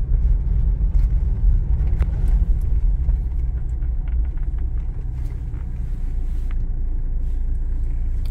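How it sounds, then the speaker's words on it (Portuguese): A Toyota SW4 pickup truck resonates with a deep, steady engine rumble around 1,200 to 1,500 rpm while driving through a town centre, with faint road and cabin noise over it. "tô prestando atenção na ressonância da caminhonete"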